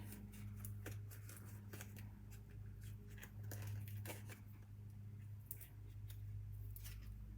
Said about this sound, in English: let me grab my scissors. I'm just going to cut one of these little edges here